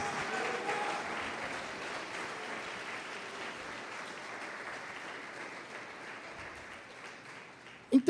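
Congregation applauding in a church service, a steady broad wash of many hands clapping that holds for several seconds and tapers slightly, ending with a couple of sharp louder knocks.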